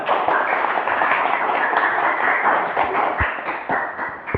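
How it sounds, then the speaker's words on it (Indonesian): Students clap together in a classroom, a steady dense patter of many hands that stays loud and close for the whole stretch, with no talk over it. "Yang mantap tepuk tangan."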